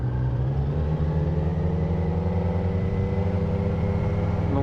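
A 2024 Kawasaki Z900 A2, a four-cylinder motorcycle, hums steadily while being ridden, a smooth, constant engine drone with a slowly rising pitch and no one talking over it.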